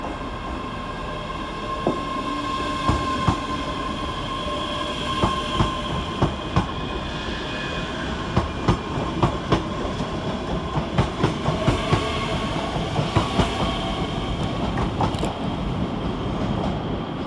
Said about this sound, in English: On the near side sees the departure of 385124, departing with the 1622 Scotrail service to Edinburgh Waverley via